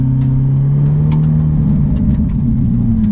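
A Ferrari 488 Pista with an Inconel exhaust drones loudly and steadily up close, its exhaust note holding a low, throaty pitch that rises slightly near the end.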